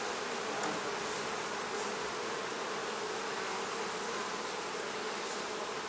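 Honey bees swarm over an opened beehive while brood frames are moved about, giving a dense, steady, even buzz that fills the air from close by with no talk over it.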